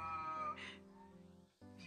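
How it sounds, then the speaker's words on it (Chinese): A cat gives a faint, drawn-out meow indoors in a quiet household, a single soft call with a brief second cry starting at the end. "猫咪，是吧？"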